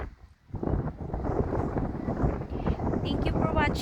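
Wind buffets a microphone outdoors at Glyfada, Greece, in loud, rough, gusty rumbles that rise after a brief lull and keep up throughout, with a voice faintly mixed in.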